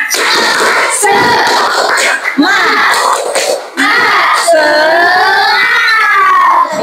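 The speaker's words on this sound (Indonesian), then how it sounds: "Kita sebelum mulai belajar, tepuk semangat dulu yuk." Schoolchildren in a classroom do a rhythmic spirit clap before a lesson, with sharp, patterned hand claps punctuating their loud group chanting.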